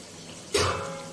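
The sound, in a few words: water poured into pan of kebabs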